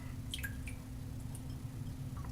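Water shaken from a soaked shaving brush gives a few faint, scattered drips and light splats over a quiet, steady background hum.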